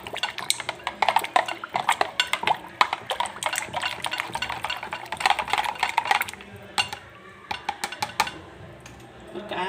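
A utensil stirs custard in a metal pot, making repeated close clicks and scrapes against the sides in an uneven rhythm, with no voices.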